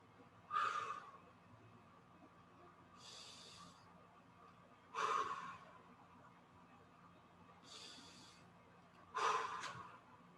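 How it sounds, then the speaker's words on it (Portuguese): A trombone teacher demonstrates deep diaphragmatic breathing: three distinct close inhalations with quieter exhalations between them, evenly spaced and alone without talk. "Essa seria a respiração diafragmática ou respiração plena"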